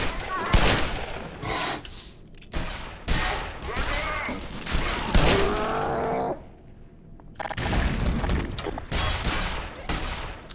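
Bursts of gunfire in the Black Mesa video game, loud and close, with repeated volleys of shots across the stretch and a short lull near the end before the firing resumes.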